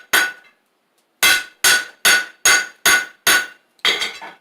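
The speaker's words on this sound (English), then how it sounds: "So we're just kind of working like a flatter with this square hammer." A square hammer planishing hot steel on an anvil while forging a teardrop-shaped punch: seven sharp, ringing metallic strikes, loud and close, one isolated blow followed by a quick steady series after a pause.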